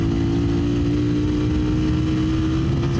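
A Suzuki Satria FU motorcycle with an overbored DOHC engine held at high revs, around 9000 RPM, producing a loud, steady, close-up buzzing drone with no talk.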